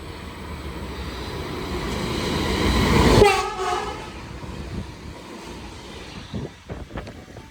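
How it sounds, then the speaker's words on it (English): A Sydney Waratah electric train pulls into a station platform. A broad, loud rumble of wheels and motors builds to a peak, then gives way to braking squeals and clanks as it slows, with wind buffeting the microphone. "And this is the train that I'm getting on."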